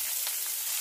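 Chopped onion and cumin seeds frying in hot oil in a pan over a low-medium flame, giving a continuous close, bright sizzle.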